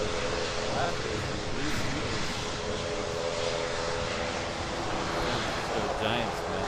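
Aircraft engines roar steadily at Honolulu airport, a heavy jet departing for LAX among traffic, with a broad continuous drone and tonal hum holding level throughout.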